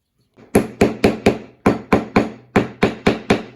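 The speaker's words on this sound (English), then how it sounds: "Tap them all down just to make sure that they're all the same height." Sharp wooden taps in quick bursts as wooden puzzle pieces are tapped down level, four knocks, then three, then four, close and crisp with a short ring after each strike.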